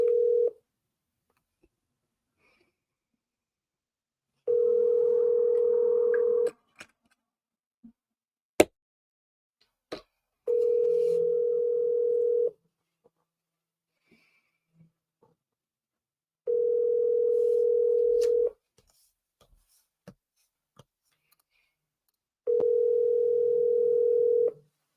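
An iPhone call rings out, with a steady electronic ringing tone repeating five times in roughly two-second bursts separated by silences, alongside a few faint clicks and no talking.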